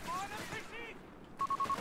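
A PAX anti-tank gun fires in a video game, with muffled booms and battle noise under someone talking, then a quick series of tonal beeps near the end.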